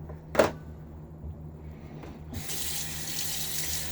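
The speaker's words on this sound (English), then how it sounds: "I'm going to pour out the water that's in the soap here" Water is tipped out of a shaving soap tub into a sink, a short splash followed later by a steady running rush that continues to the end, with a faint knock in between.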